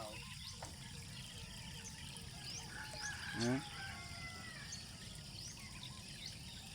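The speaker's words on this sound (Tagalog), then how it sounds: "yung maririnig nyo lang huli ng ibon." Birds call faintly over a steady outdoor background, with a rooster-like crow rising briefly in the middle.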